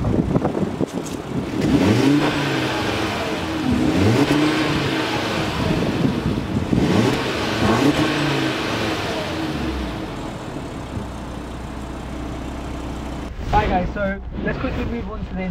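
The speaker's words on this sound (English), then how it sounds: "Should we hear what your car sounds like then?" An Audi RS3 8P engine is revved repeatedly in a run of rising and falling bursts, close and loud, then settles toward idle, with brief clatter near the end.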